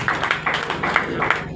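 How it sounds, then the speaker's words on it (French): Audience clapping for a church construction project at a ceremony, brisk close applause with rhythmic hand claps and some background voices, short and fairly loud. "Applaudissez également pour ce projet"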